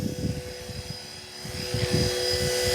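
A Blade 330S RC helicopter comes in to land in front of a driveway, its rotor whine and chopping blade buzz steady and close, swelling slightly toward the end, with no talk.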